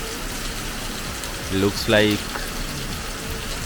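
Heavy rain falls at an outdoor resort in Dehradun, India, a continuous steady hiss of close rainfall under a man's brief speech.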